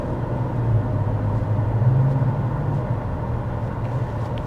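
Steady low engine rumble from the V6 of a 2024 Cadillac XT5 under gentle acceleration, a faint drone with a slight swell midway, no voices.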